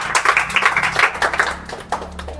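At an Independence Day celebration and prize-giving ceremony, a group claps in a quick, uneven burst of close, distinct hand claps that thins out and fades within a couple of seconds.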